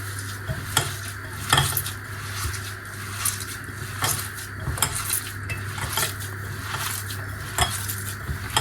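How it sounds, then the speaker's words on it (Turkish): Hands kneading a mixture seasoned with salt and black pepper in a bowl, producing continuous squelching and rubbing with scattered clinks and taps against the dish. Nearby and steady, with no talking. "Şöyle iyice yoğuruyoruz hepsi. Şey yapıyor, karışıyor."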